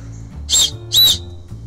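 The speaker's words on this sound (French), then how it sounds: "lorsque vous sifflez ici, bien, l'air passe et vous avez un sifflet" Two short, shrill blasts on a survival emergency whistle in quick succession, loud and close, with a brief pause between them and quiet around them.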